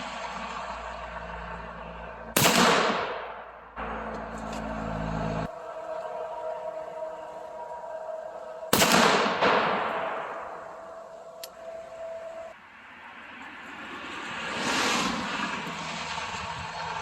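A Jukar .45 caliber caplock Kentucky long gun muzzleloader fires two sharp, loud shots several seconds apart. Each blast trails off in a long echoing rumble outdoors.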